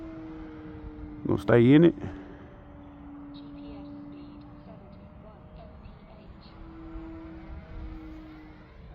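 E-Flite SNJ-5 Texan RC plane flying at full throttle, a faint steady electric whine buzzing in the background throughout, with a louder brief swell near the start and someone talking over it.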